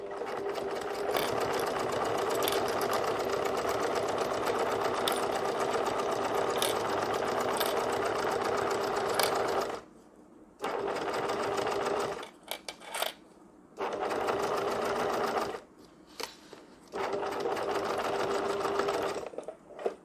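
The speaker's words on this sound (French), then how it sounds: "Le bord des dents est cette fois aligné avec le bord droit du pied. Et on est parti." Sewing machine stitching a zipper onto a fabric school pouch, steady close mechanical whirring and needle clatter in long runs, broken by short pauses and brief restarts, no speech.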